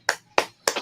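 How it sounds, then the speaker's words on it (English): Three sharp, evenly spaced claps, close and loud, in a brief burst at a police and fire weekend gathering in Chicago. "Everybody clap that up."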